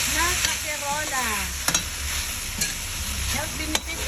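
Beef, pork and mushrooms fry in a creamy sauce in a Salad Master casserole. A steady close sizzle runs throughout, with a few sharp clinks of the spoon as it is stirred.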